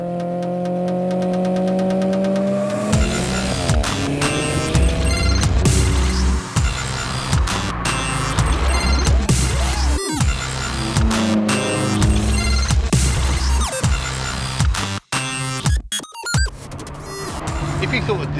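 An Alfa Romeo 4C coupe's engine runs loud and close, revving through rising tones with abrupt breaks and sharp pops between pulls.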